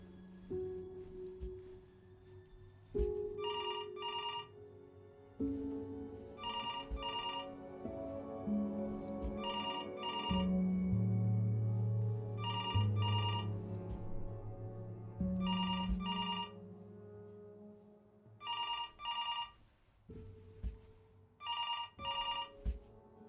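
Telephone in the video game Before Your Eyes ringing in repeated double bursts, first under soft piano and ambient music, then alone in regular evenly spaced rings near the end.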